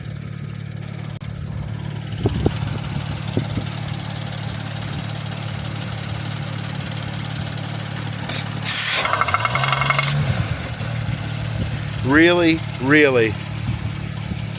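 A 2018 Porsche Panamera engine idles roughly with its oil cap removed, giving a steady low hum throughout, joined by a short burst of clatter and a brief spoken word.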